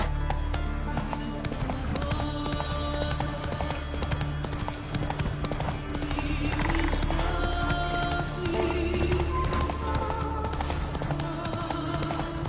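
Rhythmic hoof clip-clop of a horse galloping in The Witcher 3, with occasional whinnies, steady and continuous over a layer of game music and ambience.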